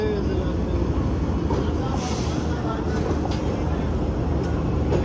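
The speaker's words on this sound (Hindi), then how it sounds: "सजी सजाई ट्रेन ने जो है वो लाहौर जंक्शन को छोड़ दिया और अब बढ़ रही है अपने स्टॉप साहिवाल की तरफ।" Pak Business Express train, with its new coaches, pulls away from Lahore Junction in a steady, loud, close rolling rumble, with faint clatter and muffled voices in the background.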